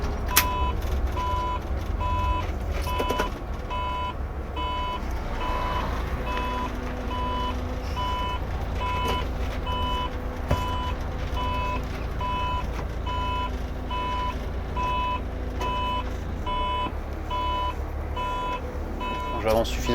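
Reversing beeps from a Setra S416UL coach: a regular series of evenly spaced electronic beeps over a low engine rumble, continuing throughout while a driver talks.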